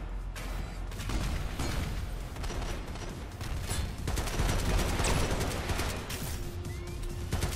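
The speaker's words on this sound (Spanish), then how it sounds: "dos balazos y me matan" Dense, rapid gunfire in the game Synthetik, with overlapping bursts of shots and clattering impacts continuing loudly throughout, plus a brief rising whine near the end.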